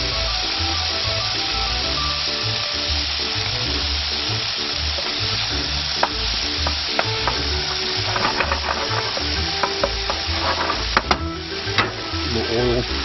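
Tomatoes frying in oil in a pan for an Italian tuna dinner, a dense continuous sizzle with scattered crackles and pops, loud and close, alone.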